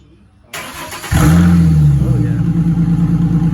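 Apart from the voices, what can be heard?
2010 Ford Mustang V6 starting and idling with new exhaust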